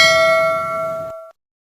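A single bright bell ding rings out alone, clear and loud, its metallic tone sustaining for about a second before cutting off abruptly into silence.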